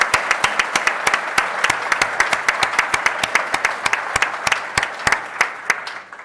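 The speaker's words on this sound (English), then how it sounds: "Give them all a huge round of applause." A conference audience at react-europe claps in a fairly sparse, steady rhythm. The sharp, distinct hand claps stay close and bright, then thin out and taper off near the end.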